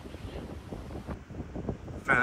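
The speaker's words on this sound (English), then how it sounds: "Wind! It's windy." Gusty wind buffets the microphone in low rumbling bursts, with a brief louder sound at the end.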